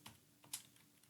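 A few quick keystrokes on a computer keyboard while a command is entered, heard as faint, sparse clicks in a quiet room.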